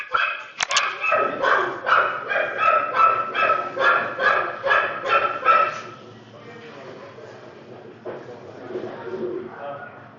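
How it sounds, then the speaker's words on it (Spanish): A small dog barks in a rapid, loud run of yips for about six seconds, then falls quiet while a person talks indoors. "voy a ver si puedo callar al perrito"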